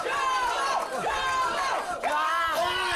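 Pro wrestling crowd at a live show, cheering and chanting as a loud, dense roar with rising and falling voices that continues throughout.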